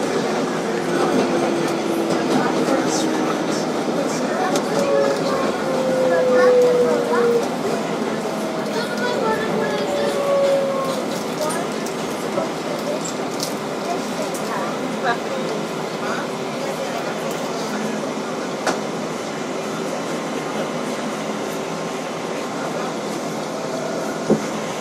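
Steady onboard rumble and rolling drone inside a 2012 Kawasaki R-188 7 train on the IRT Flushing Local, with faint rising motor whines and occasional clicks, while recorded announcements speak over it.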